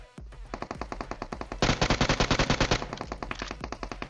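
Rapid automatic gunfire rattles in a mobile shooter game, coming in several bursts of evenly spaced shots, with a louder, denser burst in the middle, close and sharp, without speech.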